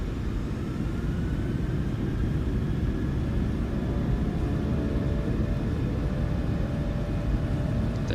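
Airliner jet engines spooling to takeoff thrust in Microsoft Flight Simulator 2020, a Norwegian flight out of Oslo: a loud, steady broadband roar with deep rumble, continuous throughout with no speech.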